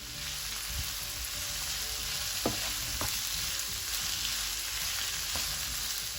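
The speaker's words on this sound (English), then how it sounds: "in the oil, we cook the onions and garlic for 4 minutes" Onions and garlic fry in oil for a Galician empanada sofrito, a steady dense sizzle throughout with a few faint utensil taps over it.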